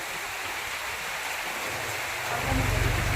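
Heavy rain falls at a house whose roof is leaking indoors, a steady broad wash of rainfall that swells louder near the end with a low rumbling layer.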